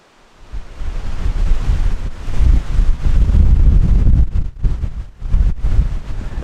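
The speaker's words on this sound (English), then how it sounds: "It is insanely windy" Strong wind blows by the water in remote Michigan wilderness, a loud, roaring rush that buffets the microphone in gusts, with a faint wash of waves underneath.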